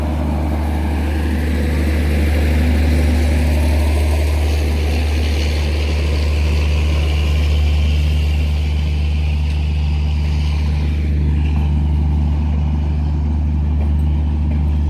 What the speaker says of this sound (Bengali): লোকোমোটিভ নিয়ে তেভাগা এক্সপ্রেস ছুটে চলেছে নিউ ফারাক্কা জংশন থেকে একদম রামপুরহাটের দিকে যাবে